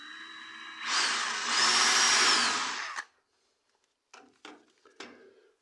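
A power drill whirs into a rustic wood floor laid over joists, pre-drilling a hole in one loud rising burst lasting about two seconds, then stopping abruptly before a few faint knocks and handling clatters.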